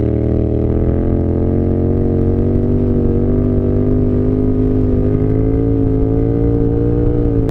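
A Yamaha XSR 700 cafe racer motorcycle rides off, its engine a loud, close, steady droning rumble that climbs slightly in pitch as it pulls away.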